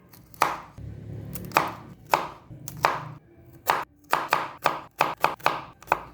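Knife chopping fresh broccoli on a cutting board: about a dozen sharp, close cuts, spaced irregularly at first and then quickening into a rapid cluster near the end, with no talk.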